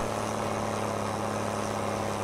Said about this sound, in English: this tractor's really struggling.